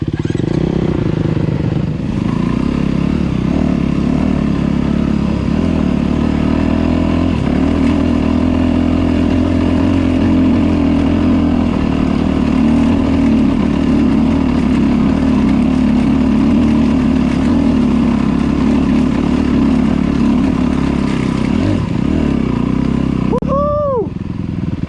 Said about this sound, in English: Feel like a proper motorbike rider going out there